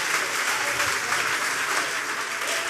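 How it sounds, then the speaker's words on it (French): A church congregation claps loudly and steadily in praise of Jesus, a dense wash of applause sustained throughout with no voices standing out. "Acclame Jésus fort."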